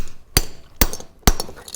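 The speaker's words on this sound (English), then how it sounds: "we're gonna hit it with a hammer" A hammer strikes a crimp tool clamped on a cable lug, three sharp metallic blows spaced about half a second apart, each with a short ringing decay, loud and close with no talk.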